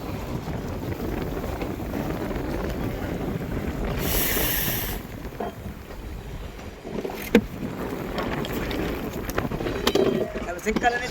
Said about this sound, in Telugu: మా బోట్ చాలా రోలింగ్ అవుతుంది అంటే వాతావరణం గాలి ఎక్కువ వస్తుంది